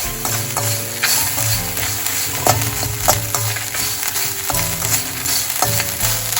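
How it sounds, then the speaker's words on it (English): Dal and methi seeds roasting with coconut in a pan, loud close sizzling and crackling with repeated scraping stirs and knocks against the pan, no one talking. "Once the dal and methi seeds are getting nicely roasted, I'm going to add 2 tablespoons of coconut along with this"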